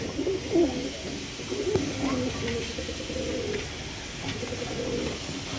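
A pair of fancy pigeons kept for sale coo softly and repeatedly at close range in low, rolling phrases over faint background noise.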